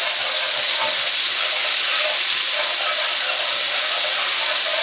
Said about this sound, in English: I'm going to add about a tablespoon garlic and ginger paste